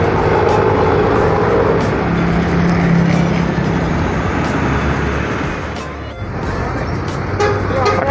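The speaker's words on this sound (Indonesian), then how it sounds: "ini bus Harapan Jayanya" A Harapan Jaya bus passes on a road with a loud, sustained engine rumble and tyre roar that swells and then eases slightly, with a faint voice under the traffic noise.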